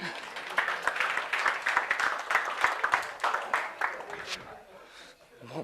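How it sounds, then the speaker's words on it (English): Keynote audience bursts into a round of applause, with dense, energetic clapping that rises quickly, holds strongly, then thins and fades out over the last second or so, with some voices mixed in. "give it a round of applause for Maverick."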